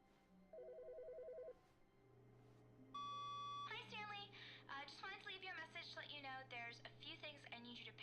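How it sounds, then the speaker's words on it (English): A telephone rings in The Stanley Parable video game, a short electronic ring pattern heard early and faint, followed by a person talking over a low hum. "Where's that phone coming from?"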